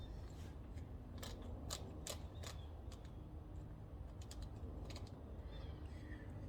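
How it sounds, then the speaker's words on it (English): Torque wrench tightening cylinder head bolts on a Kohler K91 engine from a Wheel Horse RJ58 garden tractor, giving a series of faint sharp clicks and ratcheting ticks in bursts over quiet shop background. "we'll set the head on with the gasket, and we'll start torquing it in"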